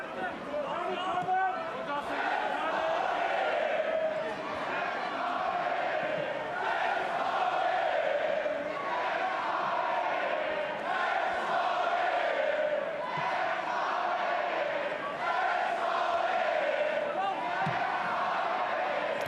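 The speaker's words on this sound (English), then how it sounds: "The crowd really getting behind their team now" Football stadium crowd at a German third-division match between Elversberg and Borussia Dortmund II roars and chants continuously, a dense, surging wall of fan noise with rhythmic swells, a commentator's voice audible over it.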